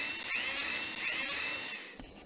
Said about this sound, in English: Drill a hole in the front above the doorway for the name tag.